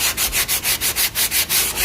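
Hand sanding on the edges of a wooden box from an old baroque altarpiece, quick rhythmic back-and-forth strokes of sandpaper, about a dozen close, loud rasps in a steady beat.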